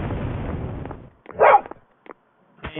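A dog in a video game gives a single sharp bark, with a few clicks and thuds around it from the game.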